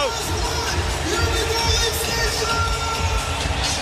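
Dense roar of a packed hockey arena crowd during an NHL playoff game between the Florida Panthers and Toronto Maple Leafs, a steady wash of cheering and babble with low rumbling underneath, loud and continuous throughout.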